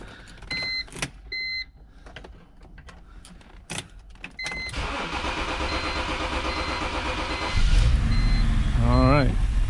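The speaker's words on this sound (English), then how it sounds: "And we'll try to start it right away, see what it does." A 2007 BMW X3 with an N52 engine and multiple problems cranks in an extended, close starter whir after a few clicks and chimes, the cranking continuing loud and steady for several seconds.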